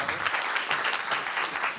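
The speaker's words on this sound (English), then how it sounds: "And big applause for Raymond." An audience at a Stanford seminar on augmented reality breaks into brief, lively applause that stays strong and dense throughout, with no voices over it.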